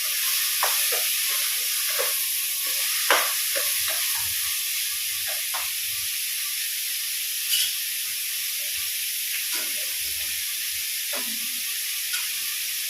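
Beans and carrots sauté in a pan for vegetable kurma, a steady close sizzle and hiss running throughout with occasional soft clinks and stirring scrapes, no talking.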